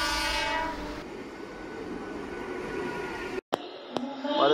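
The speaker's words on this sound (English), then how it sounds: "here comes a train for Asangaon" A train bound for Asangaon runs past near Khadawali by the Bhatsa River, its horn sounding loud and close with steady rumble and rail noise, then a short gap and a nearer clatter at the end.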